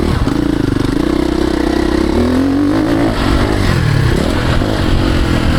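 A 2026 Ducati Desmo 450 MX motocross bike ridden on a private track gives a loud, continuous engine drone that rises and falls as the rider works the throttle, with no talking over it.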